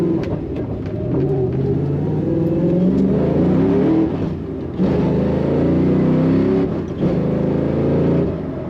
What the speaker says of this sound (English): And I'm quickly speeding. Probably shouldn't accelerate anymore.